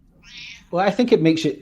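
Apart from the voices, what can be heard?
cat meowing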